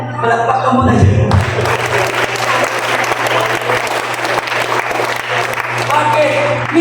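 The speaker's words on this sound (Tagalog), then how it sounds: "Palakpak ka muna dyan." A church congregation at an anniversary service applauds, a full burst of crowd clapping that starts after a short spoken moment and carries on steadily, with voices mixed in.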